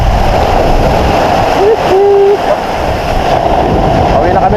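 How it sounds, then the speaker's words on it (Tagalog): Loud ocean surf washes continuously at Santol Beach, a roaring broadband wash mixed with gusty wind buffeting the microphone, and a brief tonal voice sound rises over it midway. "malakas yung ano ng alon eh"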